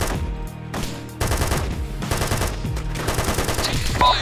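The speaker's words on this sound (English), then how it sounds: "Enemy fire." Rapid bursts of gunfire in a military video game, with machine-gun-style firing rattling steadily and loudly throughout, briefly easing then resuming with dense overlapping shots.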